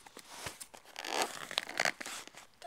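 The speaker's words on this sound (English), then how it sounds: "you guys really don't need to see me opening up a box" Cardboard box being cut and torn open, a quick series of scraping, crinkling and ripping bursts close by with no talking.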